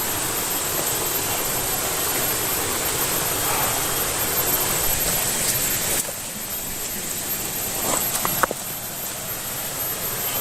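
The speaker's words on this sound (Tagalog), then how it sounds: "Tubig." Steady broadband rush of water flowing in a stream beside a small path, continuous and fairly loud throughout, with a slight drop midway and a few brief knocks near the end.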